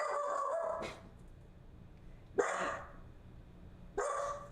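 Several dogs bark outdoors in short bursts, three separate loud barks spaced about 1.5 seconds apart, fairly close, over a steady low background hum.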